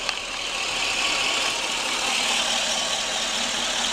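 A car engine converted to sequential CNG injection idles steadily with all injectors running, giving a constant broadband hum and hiss, close up and unchanging, with no talking.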